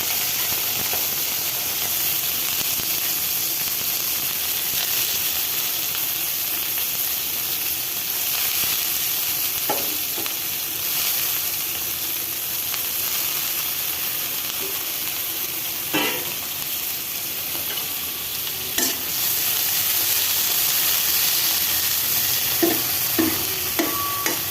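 Shrimp bharta frying in a little oil, a steady close sizzle and hiss throughout with occasional stirring clinks and scrapes.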